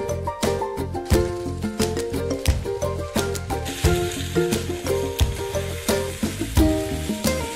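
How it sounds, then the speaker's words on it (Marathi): Potato slices pan-frying in oil until crispy: loud, continuous sizzling with repeated sharp scraping and clinking strokes of a spatula turning them, close and busy throughout. "बटाटा चांगला क्रिस्पी होईस तोपर्यंत परतून घ्यायचा"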